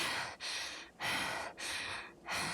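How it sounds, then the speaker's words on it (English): A game character in Wo Long: Fallen Dynasty breathes heavily in four loud, rhythmic, close-up breaths with short gaps between them. "Why is the breathing so loud?"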